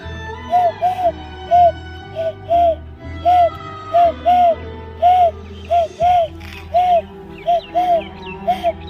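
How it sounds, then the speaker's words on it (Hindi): Repeated soft two-note pigeon coos, about fifteen in steady succession, close and clear over a low background hum with faint music. "वो कबूतर की आवाज़ ऐसे हुआ करता था"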